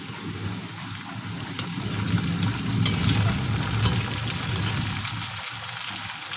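Chopped tomato tipped into a hot pan of fried potatoes while cooking a shrimp and fig curry, giving a steady, rain-like sizzle and crackle that swells slightly and holds throughout.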